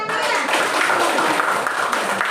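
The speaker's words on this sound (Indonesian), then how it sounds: "Kasih tepuk tangan ya." A classroom of schoolchildren claps hands together in a dense, steady burst of applause lasting a couple of seconds, close and fairly loud.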